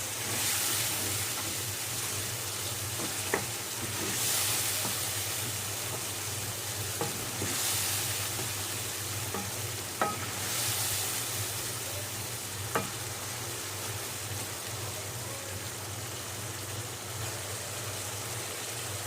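Chilli con carne sizzles steadily in a pan on a home stove with a low hum beneath, while a spoon scrapes and stirs it in occasional soft clicks and knocks, no voices.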